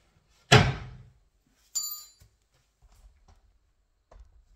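A kitchen unit door being fitted is swung and shut: a loud wooden thunk up close, then a sharper clack with a metallic ring a second later, followed by faint soft knocks.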